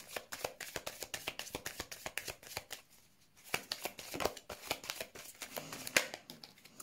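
Tarot cards are shuffled for a reading in a close, crisp run of rapid riffling and slapping bursts, with a short pause midway and no voices over it.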